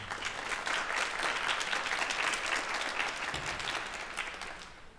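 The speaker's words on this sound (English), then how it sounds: "We're gonna clap for our parents" Students of an all-county jazz band applaud their parents at a school concert, a full, even burst of clapping from a crowd that carries on steadily and tapers off near the end.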